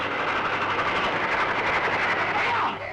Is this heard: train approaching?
yes